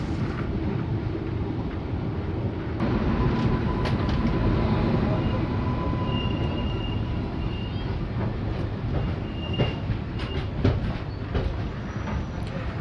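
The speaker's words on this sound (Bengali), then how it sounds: "রাত 1:15 ট্রেন বোলপুর স্টেশন এন্টার করছে।" The Gour Express from Malda Town to Sealdah rolls into Bolpur station at night, a steady rumble of wheels and carriages with faint squeals and clicks over the rails, continuing throughout without voices.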